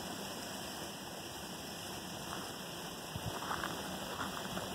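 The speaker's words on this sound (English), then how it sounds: "So the water, you can start to hear it now, I'm sure." A waterfall pouring into a newly shaped garden pond with boulders and slabs, heard as a steady, even rush of water noise that holds without pause.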